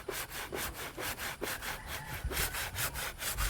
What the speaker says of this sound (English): as he is trying to saw this piece off